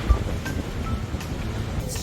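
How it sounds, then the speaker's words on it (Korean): Strong wind buffets the microphone by the sea on Jeju Island, a rough continuous roar with surf underneath, while people talk over it. "와 바람이 너무 많이 분다 바다다"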